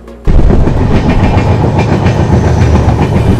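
The Mandovi Express, running from Madgaon to Mumbai CSMT, rumbles loud and steady with a continuous rushing roar and clattering wheels, starting abruptly and carrying on with no voices.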